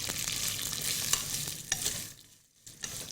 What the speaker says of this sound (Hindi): इसको थोड़ा सा हम घी में भूनेंगे